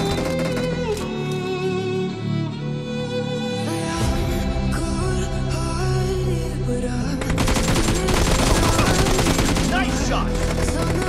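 Rapid automatic gunfire in the mobile shooter BGMI, dense crackling bursts over game music that grow louder and more continuous toward the end.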